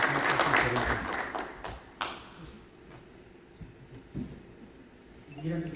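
Short burst of clapping in a church gathering for a guest named Pompeyo, fading quickly after a couple of seconds, followed by scattered claps and quiet voices.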